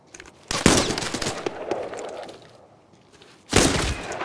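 Loud, close gunfire in the extraction shooter game Tarkov: a sharp burst of rapid shots, then a quieter stretch, then another heavy burst near the end, with no talking.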